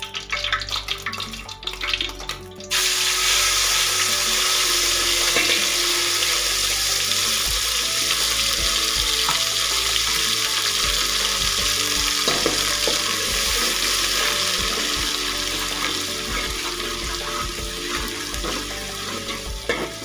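Onion and tomato gravy for chicken biryani frying in a pot, a loud, dense, continuous sizzle that swells after a brief quieter start and carries steady stirring scrapes for twenty seconds, close, with no talk.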